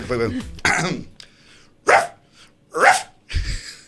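A voice imitates a dog barking, giving several short, loud, breathy barks close to the microphone, separated by brief pauses.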